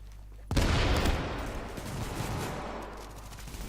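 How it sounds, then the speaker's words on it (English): Sustained bursts of assault rifle gunfire in The Division, a combat video game, erupting suddenly after a quiet lead-in and rattling on loud and dense, with scattered shots and explosions layered through the barrage. "that's why I brought the freaking assault rifle"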